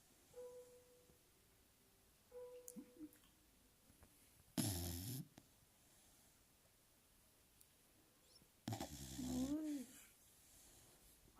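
A beagle snoring in a quiet room, with a few separate loud snoring bursts spaced several seconds apart and soft breathing in between, close to the microphone.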